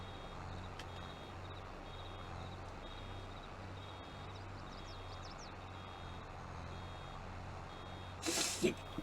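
A vehicle's reversing alarm in Farming Simulator 22 during cultivating and baling work, steady evenly spaced beeps over a low engine drone, fairly faint, with a short louder hiss near the end.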